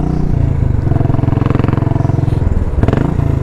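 A Royal Enfield Classic 500 single-cylinder motorcycle accelerates with a loud, close, rapid thumping exhaust pulse that climbs in pitch, then briefly eases and picks up again.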